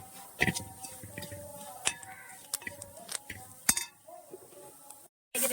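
A spoon clinks repeatedly against a pot while mixing a wedding-feast style mango curry with chilli powder; the sharp metallic taps come irregularly, close by and moderately loud, with no talking.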